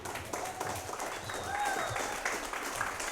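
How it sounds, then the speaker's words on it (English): Audience applause at a live comedy-style lunch show, a steady wash of clapping from the crowd lasting a few seconds, with some voices mixed in. "All right, you can clap now."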